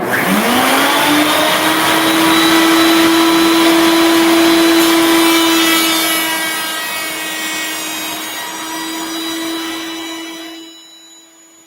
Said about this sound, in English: I'm going to turn the router on